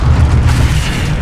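The Incendio fire spell is cast in the Hogwarts Legacy video game. A loud, close, booming whoosh of flame rolls with a heavy low rumble and a steady roar throughout.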